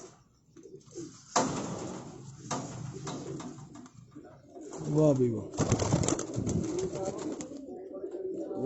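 Pigeons in a Rawalpindi loft coo in a couple of close, throaty bursts among clattering handling noises, while someone speaks over parts of it.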